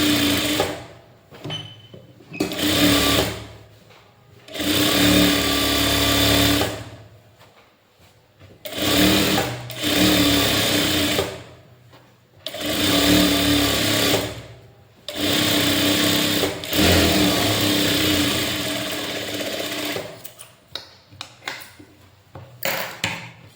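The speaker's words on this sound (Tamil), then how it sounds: "நம்ம சுற்றியும் தையல் போட்டுக்கலாம்." A sewing machine stitching around a puff sleeve, running in several sustained bursts of steady whirring, each a few seconds long, separated by short pauses, close and loud.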